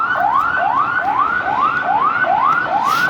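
A fire engine heading to a factory fire in Balaju, Kathmandu sounds its siren close and loud, with repeated rising whoops in a fast, even rhythm.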